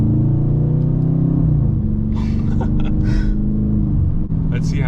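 A Dodge Challenger R/T with the 5.7 V8 accelerating, a deep, loud engine rumble heard from the cabin, rising in pitch before shifting down into a steady drone, with a person talking over it.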